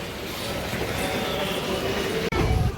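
An express train departing Mayiladuthurai junction, heard from on board: a steady low rumble and mechanical hum of the carriages, with a sudden brief dropout and a jolt near the end.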